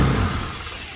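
A mini truck's engine revs hard and close for a brief moment as the gas is pressed, then eases off slightly and keeps running, with no voices.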